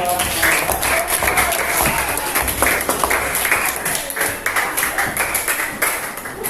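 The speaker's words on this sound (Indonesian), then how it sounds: "Silakan tepuk tangan dulu temannya." Classmates clap for two students after a classroom demonstration, a dense burst of hand claps lasting several seconds with some voices mixed in.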